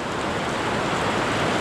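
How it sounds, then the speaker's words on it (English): Heavy rain pours down steadily during a passing storm on a homestead, a dense, even hiss with no breaks and no voices. "we got hit with a little bit of a rain shower."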